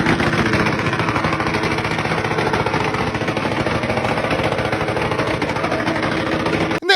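A motorcycle exhaust is revved loudly and steadily without a break, a harsh, close engine drone that cuts off abruptly at the end.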